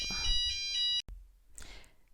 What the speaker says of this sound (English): sorry about the fire alarm